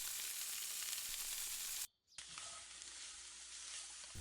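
Chopped onion, garlic and tomato puree sizzle in hot oil for a homemade pizza sauce, a steady, soft frying hiss that drops out briefly midway as ingredients go in, then resumes.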